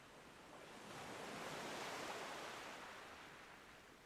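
Gentle sea waves churn in a soft, distant wash that swells to a broad peak around the middle and then eases away, calm and unbroken, with no voices.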